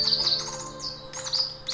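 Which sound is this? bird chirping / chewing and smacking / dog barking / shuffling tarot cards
bird chirping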